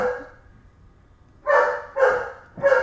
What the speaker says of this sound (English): I'll make my dog start barking.